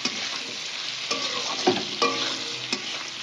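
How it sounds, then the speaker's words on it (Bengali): Tomato and green chili being stirred in a frying pan, with steady sizzling under a few scraping stirs of a spoon, close and alone without talk. "একটু নাড়াচাড়া করে নিই"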